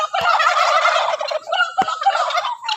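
Farm turkeys gobbling loudly and close by in rapid, overlapping rattling bursts that continue for the whole few seconds, with no talk over them.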